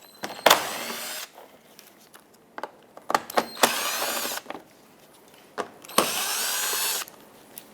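Power drill or impact driver backing out 8mm-head screws along the perimeter of a 2014-2021 Mazda 6 bumper cover, three separate whirring bursts of about a second each with clicks and handling noises between.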